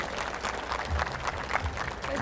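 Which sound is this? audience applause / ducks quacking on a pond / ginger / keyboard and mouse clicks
audience applause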